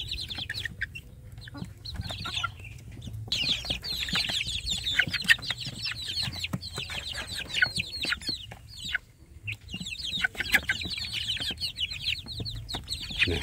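Young free-range village chicks kept together inside a coop chirp and cluck in a busy, continuous chorus of high peeps, close by and fairly loud, with brief lulls.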